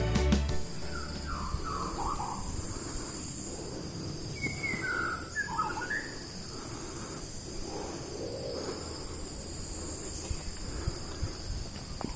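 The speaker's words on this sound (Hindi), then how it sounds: "जैसे भी आपने सुना होगा कुछ पक्षियों की बड़ी सुंदर सुंदर आवाजें" Birds calling along a forest trail in the Andaman Islands, with several short chirping and whistling phrases at moderate distance over steady insect buzz and background hum.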